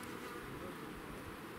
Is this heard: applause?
no